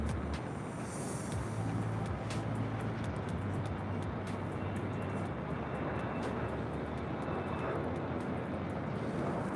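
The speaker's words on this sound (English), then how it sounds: "Got that MD-11 about to depart there, crossing over 25 left, as well as 25 right." An MD-11 airliner rumbles at LAX, a steady broadband engine roar with low drone underneath, distant and continuous without talk.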